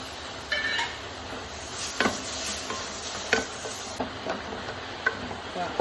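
Tomatoes sautéing in a pan for beef curry, a soft continuous sizzle broken by repeated spatula clinks and scrapes against the pan, close and fairly quiet, no speech.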